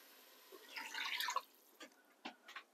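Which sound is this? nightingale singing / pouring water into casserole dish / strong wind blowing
pouring water into casserole dish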